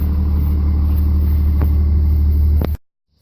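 Dodge truck rolling through sandy, muddy woods, a steady close low engine rumble with faint knocks, cutting off abruptly near the end.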